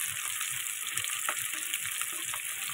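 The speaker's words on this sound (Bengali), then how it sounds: "মাছটা একটু লাল লাল করে ভেজে নেব খুব সুন্দর করে" Saithing fish frying in a pan, a steady close sizzle of oil running unbroken with light stirring clicks, no talking.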